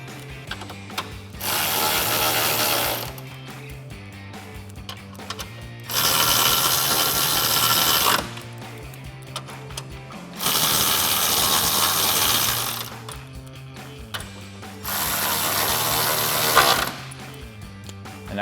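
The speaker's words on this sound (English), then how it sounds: "And then we can take our 10mm and snug them all down." Close, loud bursts of rapid clicking from a 10mm ratchet snugging down headlight screws on a 2010-2018 RAM 2500, four separate runs of about two seconds each with short pauses between them.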